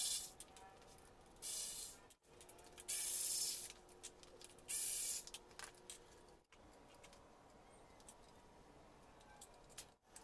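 A ratchet clicks in short bursts while bolts come off the front end of an Energica EVA electric motorcycle, with brief louder hissing spurts and small metallic handling noises between.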